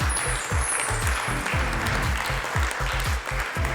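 An audience claps for a male coach at a fashion show competition. The steady wash of clapping runs throughout over thumping, rhythmic music, with no talking.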